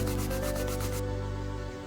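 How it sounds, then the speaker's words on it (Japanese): Six stacked edges of scrap leather are rubbed hard to burnish them for a hotel-style keychain, producing a close, steady rhythmic rubbing friction that thins out near the end. "ピカピカに磨いていきます。"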